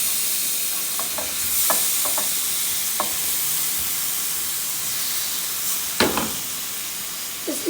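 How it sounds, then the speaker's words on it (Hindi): Marinated beef masala cooks in a kadhai, giving a steady soft sizzle and hiss with scattered stirring scrapes and clinks, one sharper clatter near the end, and no talking. "अभी मैं इसको डालने लगी हूँ कढ़ाई में।"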